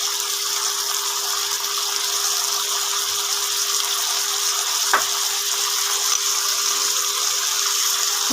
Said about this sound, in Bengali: এবার নুন হলুদ দিয়ে এটাকে ভাজবো।